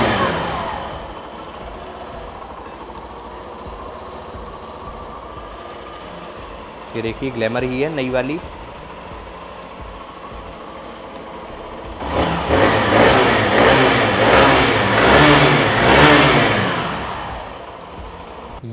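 A 2023 Hero Glamour Xtec motorcycle engine idles steadily up close, then its exhaust revs up loudly for several seconds. A voice speaks briefly partway through.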